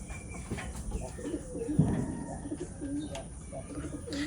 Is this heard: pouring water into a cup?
no